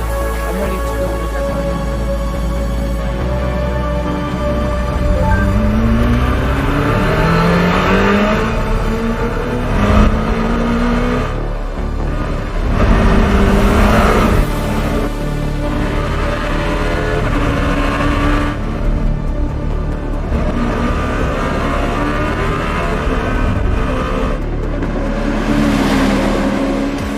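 Czinger 21C hypercar accelerating hard out of a corner at Laguna Seca, a loud, close engine note rising steadily through several gear changes while a driver talks throughout.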